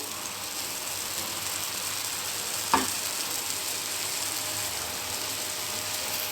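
Palm jaggery paniyaram batter fries quietly in a pan over a low flame, giving a soft, even sizzle throughout, broken by one brief click partway through.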